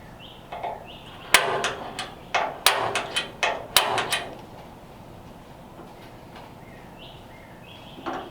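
Sharp hammer blows on a center punch against metal during fabrication of a 1929 Ford Roadster pickup, a quick run of about eight ringing strikes close by, followed by quiet shop ambience.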